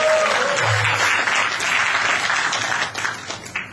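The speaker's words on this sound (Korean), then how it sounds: "동의하신 박수 한번 주시기 바랍니다." An audience at a Korean association's second-anniversary lecture event claps together in a dense burst of applause that holds steady, then thins and tapers in the final moments.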